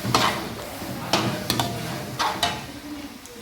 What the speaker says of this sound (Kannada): ಈಗ ಚಿಲ್ಲಿ ಸಾಸ್ ಹಾಕ್ಕೊಳ್ತಾ ಇದ್ದೇನೆ.